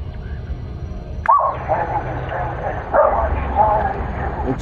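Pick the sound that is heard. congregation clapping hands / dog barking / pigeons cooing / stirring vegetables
dog barking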